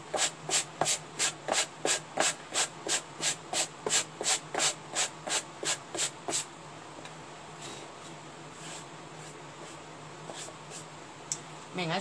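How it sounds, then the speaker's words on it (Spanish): Light sanding with a sheet of sandpaper on a craft piece, likely wood, heard as a steady run of quick rhythmic scrubbing strokes, close and fairly loud, for about six seconds, then a quieter rustling pause with faint handling. "Venga, una lijadita suave."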